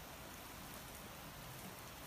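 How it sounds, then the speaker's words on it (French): Steady rain hisses evenly, a dense wash of drops with no other sounds, faint and continuous. "Il pleut en fait."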